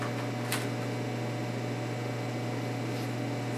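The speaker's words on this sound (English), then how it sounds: "The air conditioning just came on." Air conditioner running indoors, a steady droning hum that stays constant and fairly loud, with a faint brief rustle partway through.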